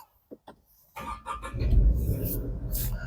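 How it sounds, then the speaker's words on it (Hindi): A 2025 Tata Nexon Creative Plus automatic starts up: faint clicks, then the engine catches, surges in a rumbling rev and settles into a steady near idle. "सबसे पहले मैं गाड़ी को कर लेता हूँ स्टार्ट।"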